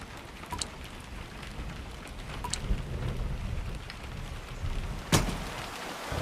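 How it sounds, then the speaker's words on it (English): Steady rain falls on a surface, with a sharp thunderclap near the end and fainter rumbles earlier, as a storm builds; no voices. "That's just a little rain"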